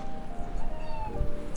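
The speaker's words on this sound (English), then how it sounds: "Yeah, that's my cat." A cat meows loudly and drawn out, close by, with a little rustling in the background.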